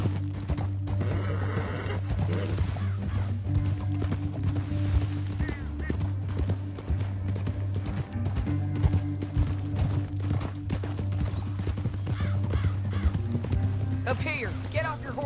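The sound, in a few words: horses galloping in video game Red Dead Redemption 2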